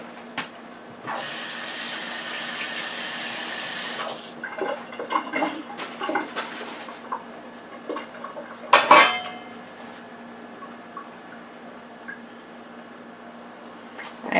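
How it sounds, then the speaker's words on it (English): Cooking water is poured off a pot of carrots and potatoes in a three-second splashing rush. Pot and utensils then clatter and clink in the kitchen, with no talk. "I have my carrots and potatoes here in water. I'm just going to pour the water off."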